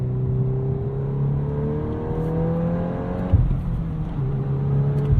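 A 2022 Volkswagen Golf R six-speed manual in drift mode, engine note rising and falling through quick revs with snappy throttle blips, heard close from inside the cabin with a steady drone.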